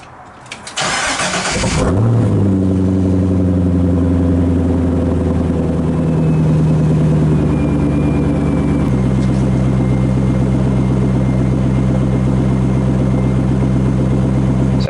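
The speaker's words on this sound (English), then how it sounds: "I thought I'd just include a quick little startup blurb of the car as I backed it out" Chevrolet C5 Corvette engine cranking and catching at startup, then settling into a loud, steady idle that continues under a low rumble as the car backs out of a garage, with no voices.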